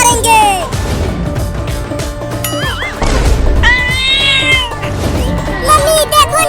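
A kitten meows repeatedly in high, wavering cries over busy background music and other sounds, loud and near.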